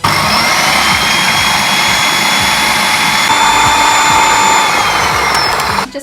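A Kitchen Whiz food processor blitzes sausage roll filling in a loud, steady whirring buzz. The motor drones continuously for several seconds before it cuts off at the end.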